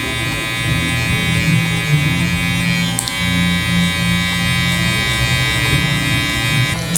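Electric hair clippers cutting a taper fade give off a close, loud, steady buzzing hum with a brief change in tone around the middle, and no one speaks.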